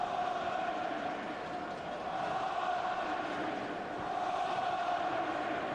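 A large stadium crowd at Oliver Kahn's 2008 testimonial match between Bayern München and Germany produces a steady, distant roar with sustained chanting tones, continuous throughout.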